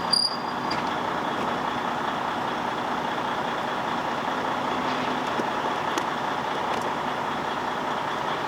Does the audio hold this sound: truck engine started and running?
yes